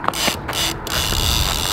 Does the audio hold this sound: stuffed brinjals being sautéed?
no